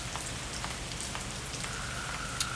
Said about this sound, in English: when the rain started setting in